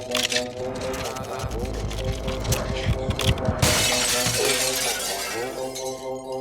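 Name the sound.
mirror glass shattering into shards, movie sound effect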